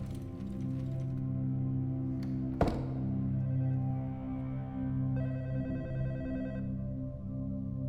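A telephone rings in the video game Back Then: a short electronic ringing burst follows a single thud, over a steady, low, humming game background.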